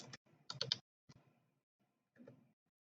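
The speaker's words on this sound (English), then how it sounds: "In here, I type Windows" Keys clatter on a computer keyboard in short bursts of quick, faint clicks, separated by pauses.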